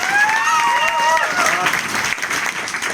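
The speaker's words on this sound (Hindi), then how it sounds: "एक बार जोरदार ताली" An audience applauds at a Vestige DLCP opening ceremony in Sadulla Nagar, Balrampur, Uttar Pradesh. A short burst of clapping follows a voice at the start.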